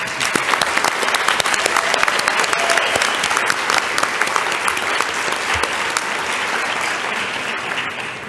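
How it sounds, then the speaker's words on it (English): Sustained, dense applause from a large audience honoring a graduating class of 193 at a baccalaureate brunch in New Orleans, steady and loud throughout with a slight fade at the end. "I want to acknowledge all 193 of you with a round of applause"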